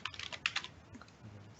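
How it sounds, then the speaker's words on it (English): Typing on a computer keyboard while entering an urban street address into an online map search, a quick run of close, crisp key clicks in the first second, then quieter scattered taps. "I'm just going to type in here"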